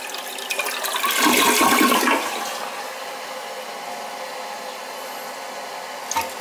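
An American Standard toilet with a flush bucket mechanism flushes loudly, a surge of rushing water peaking in the first two seconds, then settling into a steady hiss of refilling with a small clunk near the end.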